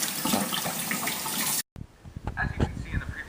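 Water pouring and overflowing in a school science project demonstration, a steady splashing rush that cuts off abruptly, followed by quieter trickles and drips, with a voice talking over it.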